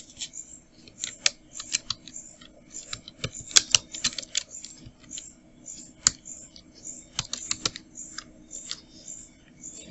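Rapid typing on a computer keyboard, with a steady run of close, crisp key clicks in uneven bursts and a few sharper, louder strikes, with no talking.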